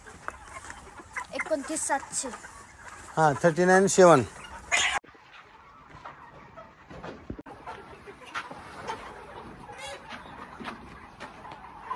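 Chickens on a 5000-bird poultry farm, with birds 42 days into the batch, cluck and call in a dense flock, a loud burst of squawks early on giving way to softer background clucking while people talk nearby.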